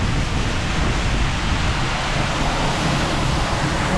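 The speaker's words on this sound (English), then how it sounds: "Very windy." Strong wind roars across the open deck of a Celebrity Silhouette cruise ship sailing toward Iceland, a steady, dense broadband buffeting that fills the whole stretch with no letup.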